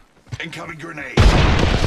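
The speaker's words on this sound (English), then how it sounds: "Incoming grenade." A grenade explosion in Apex Legends erupts as a loud, sudden boom with rumbling debris, coming right after a person speaks.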